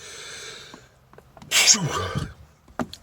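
A single loud human sneeze bursting out near the microphone, followed by brief breathy murmuring.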